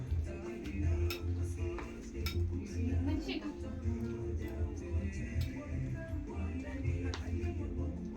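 A person eats a beef meal at a table, with cutlery clinking and scraping against dishes in frequent light chinks and ticks, close by, under a steady low background and occasional talk.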